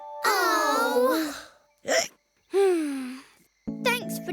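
Voices in a children's cartoon about a noisy lion with hiccups alternate with short, sharp hiccup-like bursts between longer spoken phrases.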